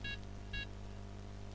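A telephone beeps twice in quick short bursts, faint and electronic over a low steady hum during a game of Of Guards & Thieves.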